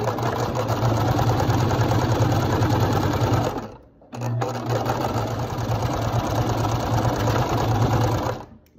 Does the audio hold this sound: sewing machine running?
yes